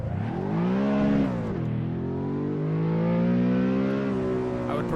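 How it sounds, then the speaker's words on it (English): Car engine and exhaust in the Assetto Corsa racing game revving up and easing off in long, smooth rising and falling sweeps, steady and close, with no talk over it. "changing my exhaust setup, because I freaking hate how it sounds."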